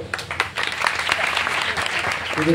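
Audience at a youth church gathering clapping hands steadily and fairly loudly, a dense crowd applause with a brief pause near the end before it picks up again.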